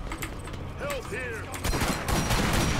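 Explosive shotgun blasts from Borderlands co-op play, dense booming reports in the latter half layered over game ambience, with brief voice chatter earlier.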